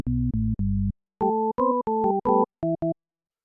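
A short run of synthesizer tones from FL Studio's 3XOSC: three low buzzy notes, then a faster sequence of higher, cleaner, smoother sine-wave notes, each starting and stopping abruptly.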